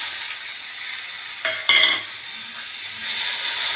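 Hot coconut oil hisses and sizzles steadily, then briefly flares louder as tomatoes drop into the pan, before settling back into a gentle fry.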